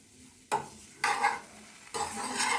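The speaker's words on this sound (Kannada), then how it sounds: "ಇದು ಸ್ವಲ್ಪ ಫ್ಲೇಮ್ ಜಾಸ್ತಿ ಮಾಡಿದ್ದೀನಿ. ಚೆನ್ನಾಗಿ ಫ್ರೈ ಮಾಡೋಣ." Soya beans, oats and fenugreek masala frying over a raised flame, with three quick bursts of stirring scraping through the pan, each followed by a crisp sizzle.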